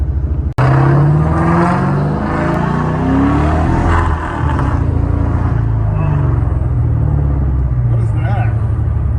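A car's loud engine rumbles and revs steadily, a deep throaty drone that runs throughout with people talking over it.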